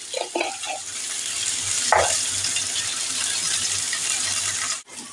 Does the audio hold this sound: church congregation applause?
no